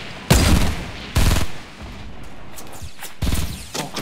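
Gunfire in the battle royale video game Fortnite during a squads match, with loud, close bursts of rapid shots separated by short pauses and one final burst near the end.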